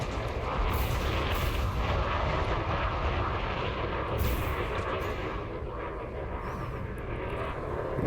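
Frag cannons firing in Elite Dangerous: a sustained roaring barrage of heavy blasts over a dense engine rumble, loud and continuous throughout.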